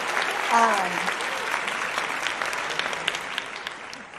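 A studio audience claps steadily to welcome guest Amber on a Mamapreneur podcast show, with a brief voice rising over the start before the clapping carries on evenly to the end.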